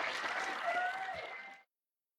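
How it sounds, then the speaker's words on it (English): An audience at a Tremors cast and crew Q&A panel applauds in a dense, steady burst of clapping that lasts under two seconds and then cuts off abruptly to silence. "let's give these guys a wonderful round of applause"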